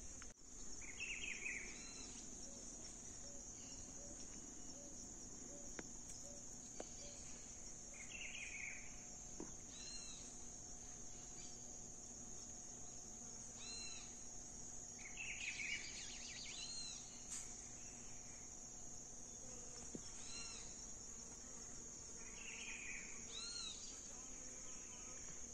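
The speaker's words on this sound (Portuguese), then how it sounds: "Dá pra você escutar os cantos do pássaro, gente?" Birdsong by a fishing pond: repeated short chirping calls at intervals, fairly distant and faint, over a steady high insect drone and low background hum.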